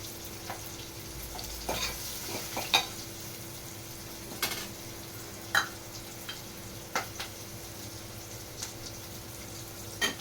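Fenugreek seeds frying in oil for a bitter gourd masala curry, a steady low sizzle under scattered scrapes and taps of a spoon stirring the pan, with no one talking.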